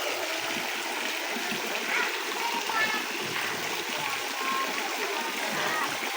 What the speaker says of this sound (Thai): แล้วก็มีน้ำตกด้วยนะครับ